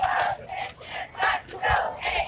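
A crowd at a Beto O'Rourke rally in Clint, Texas in June 2019, chanting and yelling in loud rhythmic surges, several rising and falling shouts in quick succession.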